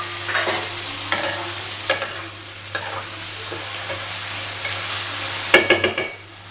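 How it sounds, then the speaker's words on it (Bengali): Chopped onion, capsicum and tomato fry in a pan for vegetable dalia, a continuous close sizzle broken by repeated scraping strokes of a spoon, with a louder cluster of stirring near the end; no speech. "পেঁয়াজটা এবং ক্যাপসিকামটা একটু ভেজে নিয়ে"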